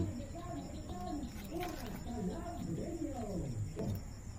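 Pigeons coo in soft, repeated rolling calls close by in a quiet loft or yard, with someone talking lightly over them.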